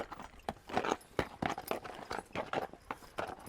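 A team of Percheron draft horses walks on a trail, their heavy hooves clopping in a loose, repeated rhythm, close and fairly loud with no talk.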